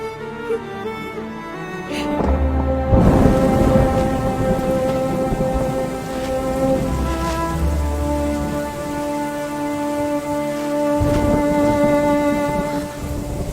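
Steady rain pours down while thunder rumbles and cracks in deep rolling bursts, one loud clap early and another later.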